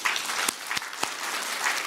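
A church congregation applauds steadily, a dense wash of clapping with a few louder sharp claps standing out, no talking over it.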